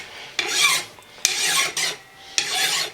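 A hand-held metal file rasps across a workpiece in four separate strokes, each a bright, gritty scrape with short pauses between, close and clear with no talking.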